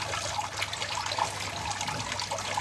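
Steady water trickles and splashes continuously at close range from a garden water fountain, a soft bubbling flow with no voices.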